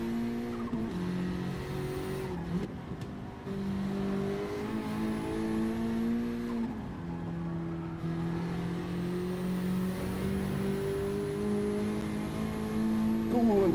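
A Honda Integra in Gran Turismo 7 on the Nordschleife accelerates hard, its engine note climbing steadily through the gears with brief dips at shifts, a sustained loud whine under occasional talk.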